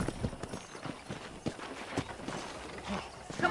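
Horse hooves clip-clop at a steady walking pace on a dirt ranch path in the Western video game Red Dead Redemption, set under a continuous bed of ambient game sound, with a voice talking over them.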